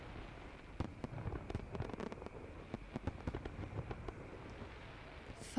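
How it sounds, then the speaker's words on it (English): Fireworks crackle and pop in a quiet audio-drama scene, a faint, dense run of irregular bangs and snaps heard from a distance with no voices over them. "Oh! Do you hear that? Yes, fireworks!"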